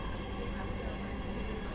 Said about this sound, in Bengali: আজকে মেট্রো রেল ভ্রমণটি আমি অন্যভাবে উপভোগ করছি